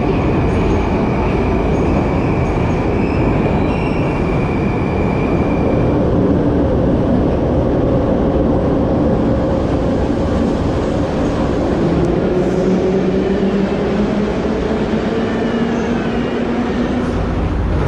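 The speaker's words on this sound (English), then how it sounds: "Let's take a metro to our first place of interest." Tashkent subway metro train in motion heard from inside, a loud, continuous rumble and roar with rising and falling wheel tones and a faint squeal, and no voices.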